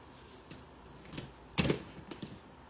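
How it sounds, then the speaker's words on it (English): Scissors trimming ribbon tails on a patriotic floral wreath: a handful of sharp, close snips spaced irregularly, one clearly louder, against a quiet room. "Just need to trim these"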